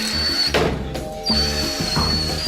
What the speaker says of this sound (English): Push on the drill.